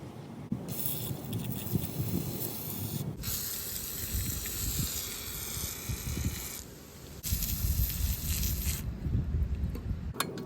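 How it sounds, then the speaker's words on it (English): Penetrating oil sprays in long hissing bursts onto badly rusted parts of a vintage Donelson Mini Mule, close and loud with brief pauses between blasts. "We'll start with some penetrating oil on some of these badly rusted areas."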